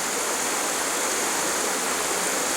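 Water is squeezed through a Sawyer Mini filter under pressure, a steady, close hissing rush of spraying water and air that runs without a break.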